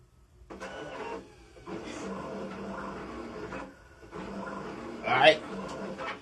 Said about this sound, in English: Now the cutter is cutting, doing this little magic.